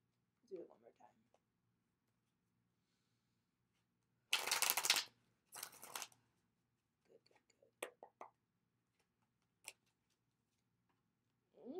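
Tarot cards are shuffled in a few short, crisp riffling bursts separated by quiet pauses, close and fairly soft, with brief taps and small clicks between.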